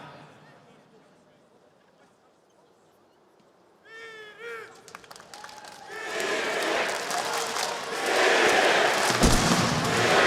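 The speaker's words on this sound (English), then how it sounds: "And there are Spirit chants in the crowd." Arena crowd at the PGL Astana 2026 esports grand final between Spirit and Falcons, rising from quiet into loud, sustained massed chanting and cheering, with a caster's voice briefly heard before the crowd swells.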